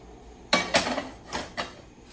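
A cooking pan clanks and scrapes in a kitchen, four quick metallic knocks in a row, close and fairly loud, with no one talking.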